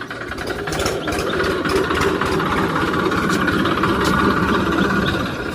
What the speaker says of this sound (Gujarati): ટ્રેક્ટર ન્યાનમાં ઉતારી દીધું છે.